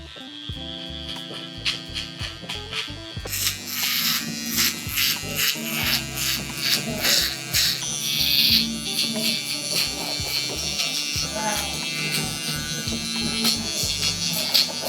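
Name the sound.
electric shaver cutting hair for a mid fade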